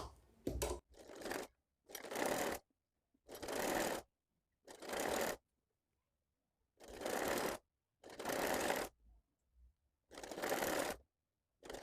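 Sewing machine stitching a fabric piping strip on a girl's top: repeated bursts of fast mechanical whirring, each lasting under a second, separated by short silences, close and clear with no talk.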